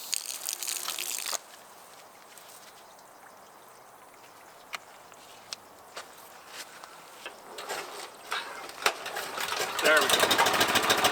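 A homemade dustless sandblaster mixing sand and water at the nozzle and blasting: a loud, broad hissing blast opens and closes the stretch, with scattered clicks and knocks in the quieter gap between.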